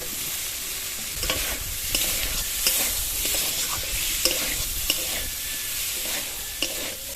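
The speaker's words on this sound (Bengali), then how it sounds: "সবজিটা খানিকক্ষণ লো আঁচে একটু ভেজে নেব।" Atta rolls and mixed vegetables frying on low heat in a pan, a steady soft sizzle with occasional stirring scrapes and small clinks, heard close with no talking.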